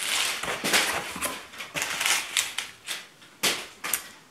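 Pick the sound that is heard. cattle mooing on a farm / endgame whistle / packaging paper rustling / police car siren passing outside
packaging paper rustling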